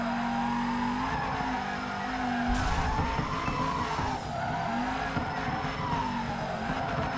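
Tires squeal in long sustained wails as a car holds a drift in FURIDASHI Drift Cyber Sport, over a droning engine note, with a sharp burst of noise midway; no talking.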